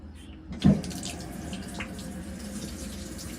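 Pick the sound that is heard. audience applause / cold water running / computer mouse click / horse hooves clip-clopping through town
cold water running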